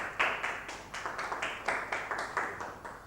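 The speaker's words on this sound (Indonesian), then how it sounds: "Beri tepuk tangan." A classroom group claps for classmates after a microteaching presentation, with a quiet, even series of about a dozen distinct handclaps in a steady rhythm, and no one speaks over them.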